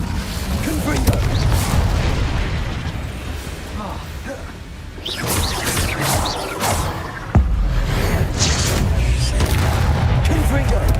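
Repeated explosive blasts from a fire-and-explosion spell in a wizard video game, booming bursts crashing one after another at close range, with a voice calling out spell names between them.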